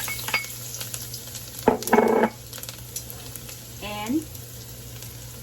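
Chopped garlic sizzles in hot frying oil in a Lao home kitchen while fried rice is made, a steady crackle with a short burst of louder spattering midway and brief clinks of a utensil, and a voice speaks quietly.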